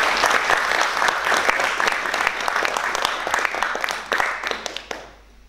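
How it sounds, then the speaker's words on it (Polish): Warm audience applause for a group of male performers on a theatre stage at a memorial evening, dense steady clapping that thins and fades out in the final second. "Bardzo proszę o gorące brawa dla wszystkich panów."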